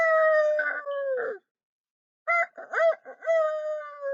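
A human voice imitates a rooster crowing, giving two drawn-out cock-a-doodle-doo calls separated by a short pause, close and clear.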